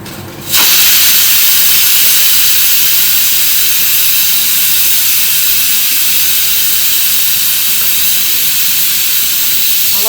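Dried red chillies hit a hot pan for a spicy Kerala bittergourd and dal curry, giving a loud, steady sizzling hiss that starts abruptly and holds evenly throughout, with no voices.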